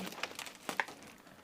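A sugar sack, got ready for waking bees in spring, is handled and crinkles in a few short, rustling bursts at close range, with nobody talking.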